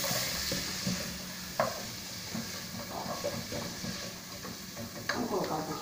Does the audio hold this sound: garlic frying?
yes